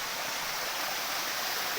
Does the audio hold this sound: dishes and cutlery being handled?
no